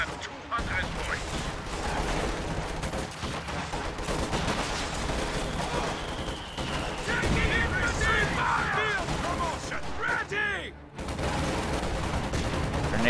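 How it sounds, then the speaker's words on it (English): Video game battle with rapid rifle and machine-gun fire crackling over heavy mortar barrage impacts, dense overlapping bursts, with a brief lull near the end before the din resumes. "Heavy mortars barraging the area, but it's not landing any good hits."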